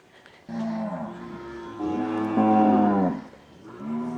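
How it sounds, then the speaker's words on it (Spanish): Cattle, including young cows, on a farm in the Dominican countryside near Bonao give one long, close, drawn-out moo that rises in pitch and then fades, followed by a softer second call. "Por allí también veo muchas vacas jóvenes."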